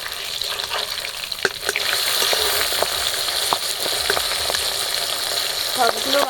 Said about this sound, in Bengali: মাছগুলো এক করে ভাজা হয়ে গেছে উল্টে দেবো